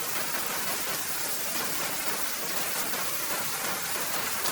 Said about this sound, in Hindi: तभी रास्ते में बहुत तेज बारिश होने लगती